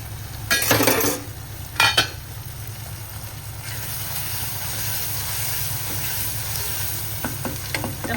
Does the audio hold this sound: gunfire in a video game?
no